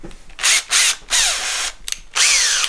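A power drill whirs in several short bursts, revving up and down with brief pauses between, loud and close.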